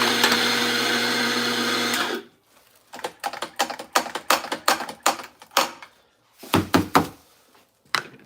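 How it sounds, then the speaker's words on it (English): A coffee grinder grinds beans for a coffee-flavoured drink tasting, a loud steady whir for about two seconds, then a run of sharp knocks and taps, close up and with no talk. "And let's grind through the coffees."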